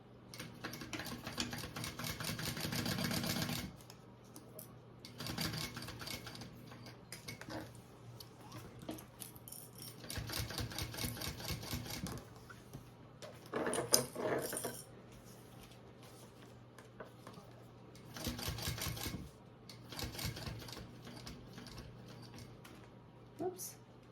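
A sewing machine bastes a side seam of a waist bag shut, running in several short bursts of rapid stitching separated by quieter pauses and faint handling noise.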